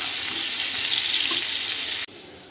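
Potol (pointed gourd) pieces sizzling in oil with a pinch of salt and turmeric, a constant close crackle that cuts off abruptly, then resumes more quietly.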